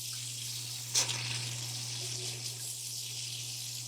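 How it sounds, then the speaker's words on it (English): Hot water running from a faucet during a home inspection, a steady broadband rush with a brief sputtering burst near the start, over a constant low electrical hum. "We got good hot water. Why are we sputtering?"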